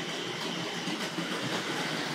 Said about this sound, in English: There's that GWR tank locomotive we saw coming into the station earlier on.